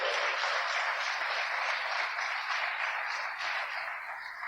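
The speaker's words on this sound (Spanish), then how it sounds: "¿Cuánto le puede dar un aplauso bien fuerte?" A church congregation claps hard and steadily for God, a dense unbroken wash of applause that eases slightly toward the end.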